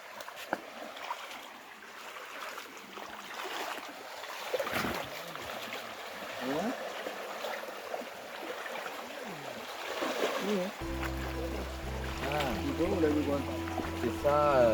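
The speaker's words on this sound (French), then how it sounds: "C'est ça, le petit ruisseau qui descend vers Lukula." A small stream in Kasaï-Oriental, Congo, trickles and flows faintly in the background under a voice, with quiet splashing and some talk toward the end.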